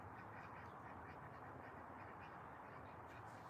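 Several ducks squabble and quack in a rapid, continuous jumble close by, with no voices over the commotion.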